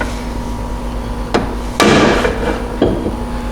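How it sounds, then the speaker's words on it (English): Three sharp metallic hammer strikes on a long rod used as a punch, knocking tight pivot pins out of a CF Moto U-Force 1000 rear bumper, ring out at uneven intervals, the second loudest, over a steady background hum. "Now we're going to knock these pins out, and so we've got a long rod using this as a punch"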